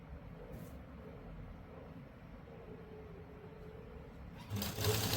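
Sewing machine stitching fabric for a simple suit, a steady low mechanical whir running throughout with a louder burst near the end, no talk.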